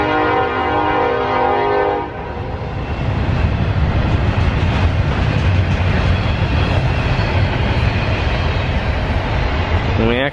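A passing train in the countryside, with a sustained horn blast at the start followed by a loud, continuous roar of rolling cars and rail noise that lasts to the end.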